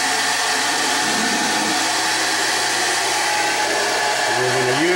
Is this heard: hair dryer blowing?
yes